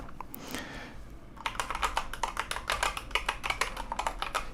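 Rapid clicking keystrokes on a normal computer keyboard after a keycap experiment, close and steady, following a brief softer rustle at the start.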